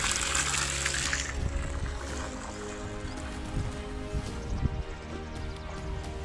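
Water from a borewell pump gushing and splashing steadily, fairly close, with a low mechanical hum beneath and a few scattered knocks.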